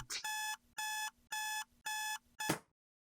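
An alarm clock rings in the video game Our Castle Walls, sounding four loud, evenly spaced electronic chimes followed by a short cut-off burst, then silence.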